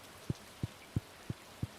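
Stardew Valley's in-game rain, heard as five soft, evenly spaced low thumps about a third of a second apart over a quiet background hiss, with no talking.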